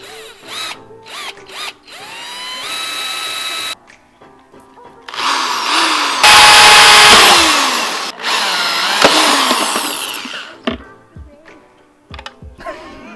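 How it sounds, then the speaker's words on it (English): A power drill drives a bit into a Scion FR-S while installing a fourth brake light, whirring in several bursts at close range, revving up and slowing down, with clicks and handling noises between the runs. "that's where we're going to be drilling this provided drill bit into"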